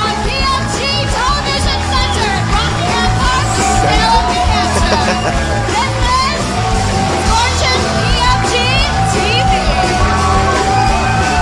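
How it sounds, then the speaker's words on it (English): Canned applause and cheering at a show's opening, a loud, steady bed of clapping with shouts, whoops and yells over music-like tones that continues unbroken for over ten seconds. "Fake applause."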